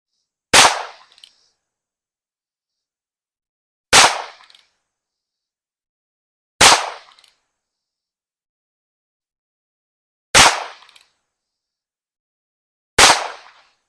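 Single Action Army .22 revolver firing five CCI rounds, each a sharp loud crack with a short ringing tail, spaced about three seconds apart with silence between.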